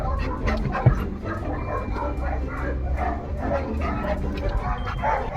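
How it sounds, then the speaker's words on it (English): Several dogs bark and yip excitedly at a canal-side kennel home, a dense, continuous chorus close by with whimpers mixed in and people talking over the commotion. "All the dogs are going insane."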